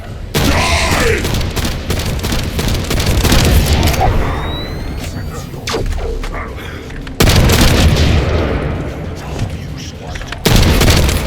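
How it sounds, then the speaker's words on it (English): Precision bomb explosions in the video game The First Descendant: loud booming blasts with heavy rumbling bursts, one near the start and another later, mixed with gunfire-like crackle and game effects. "Time to try out Lord Karel's gift to me. This precision bomb."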